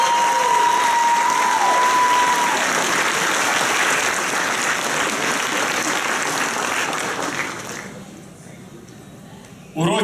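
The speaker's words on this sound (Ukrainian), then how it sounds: "Під ваші бурхливі оплески ми запрошуємо на сцену" An audience applauds at an anniversary ceremony in a hall, with dense, loud, sustained clapping that thins and fades near the end, and a voice is heard briefly.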